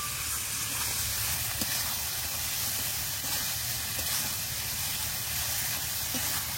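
Eggs frying and being stirred in spiced oil in a pan, a steady, loud hiss and sizzle with occasional soft scraping from the stirring, continuous throughout with no talk.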